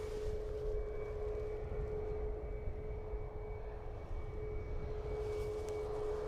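Ryanair Boeing 737 MAX airliner engines at Dublin Airport make a continuous loud roar with a steady humming tone, holding level for several seconds and brightening slightly near the end, with no talking.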